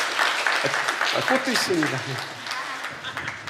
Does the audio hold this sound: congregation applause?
yes